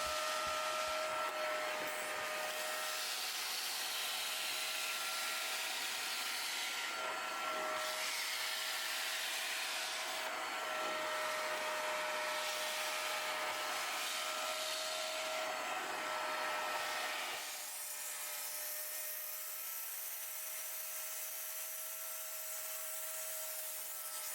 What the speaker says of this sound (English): that's where an extractor comes into play